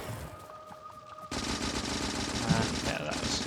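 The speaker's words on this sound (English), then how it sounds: "these turrets are going to completely obliterate them" Gun turrets shooting small worms in Factorio: a fast, continuous rattle of automatic fire kicks in after a quieter start and keeps going steadily to the end.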